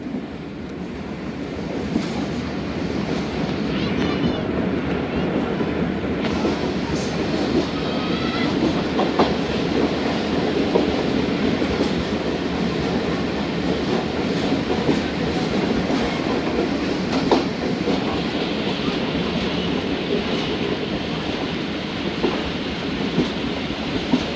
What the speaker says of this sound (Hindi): पहले डाउन में ZVK जा रही है और उसके फॉलो आ रही है मिल्लत एक्सप्रेस